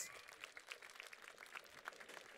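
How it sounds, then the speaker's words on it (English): Faint scattered clapping from spectators at a blind football match in Schiltigheim as a substituted player leaves the pitch, distant and thin, with a commentator's voice sounding over it. "The audience here in Schiltigheim applauding him."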